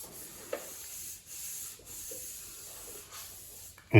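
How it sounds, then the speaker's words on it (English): Sticky tack cloth rubbed over the hull of a 1/200 scale IJN Mikasa model ship, soft intermittent rubbing strokes, close and quiet, with a brief louder bump at the end. "But you actually rub it over whatever you're going to paint."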